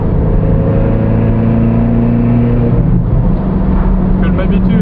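A Ferrari drives on the open-road section of the Le Mans 24 Hours circuit, its engine humming steadily and loudly throughout, with wind and road noise, and a voice talking over it.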